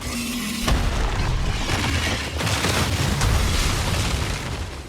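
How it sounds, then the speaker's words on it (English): A steam explosion erupts at the monster Garangolm's head in a video game, a loud sustained blast of roaring, hissing noise that begins abruptly and rumbles on without speech. "the supercharged up variant of this attack ends with a steam explosion at Garangolm's head"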